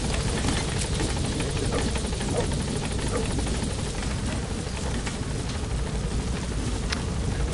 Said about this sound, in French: c'est bon, l'hélicoptère est là